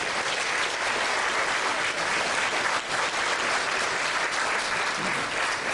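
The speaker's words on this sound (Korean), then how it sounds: "여러분 박수 한번 쳐주시겠습니까?" A crowd at an inauguration ceremony applauds steadily and loudly, a dense wash of clapping that holds at full strength throughout without any voices.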